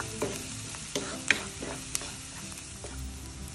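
Sliced onions sauté with a little salt in a hot pan toward browning, sizzling steadily while a spoon scrapes and stirs in several distinct strokes, close up with no talking.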